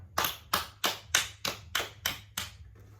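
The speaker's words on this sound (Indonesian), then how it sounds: "Mari kita tepuk tangan dulu untuk kita semua" Students in a classroom clap their hands together in unison, seven sharp, evenly spaced claps in a steady rhythm, close and clear with no talking.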